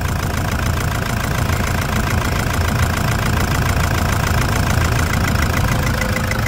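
Toyota Hilux 3.0 diesel, suspected of contaminated fuel and injector trouble, idles loudly and close with a constant rattling knock running through a dense, even engine drone. No one speaks.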